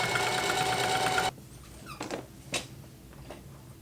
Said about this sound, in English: I'm going to put it right sides together, sew it together